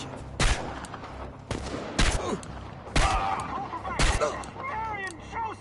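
Gunfire in the game Chernobylite, four or five loud single shots at roughly one-second intervals with echoing tails, plus faint shouting or cries in between.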